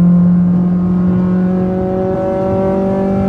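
A Honda Brio fitted with a naturally aspirated K24 engine drones loud and close, its pitch climbing smoothly in a sustained rev with no talking.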